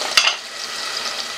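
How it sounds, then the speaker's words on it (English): Onions and garlic sizzle in a hot pan while being stirred, with a sharp scrape near the start and then a steady, moderate frying hiss. "stirring it until the onion's translucent"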